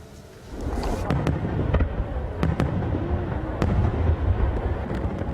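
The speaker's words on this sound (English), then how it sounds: "Kazuma Saeki has been taking photos of fireworks for 23 years" Japanese fireworks display, a dense crackling rumble of bursts punctuated by several sharp, distinct bangs, loud and fairly close, with no talking.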